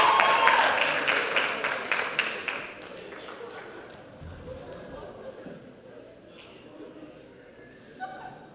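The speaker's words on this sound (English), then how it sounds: "Give a round of applause, you guys." Audience at a Central Christian College Mock Rock show applauding, a burst of clapping that fades over a few seconds into murmuring and light chatter.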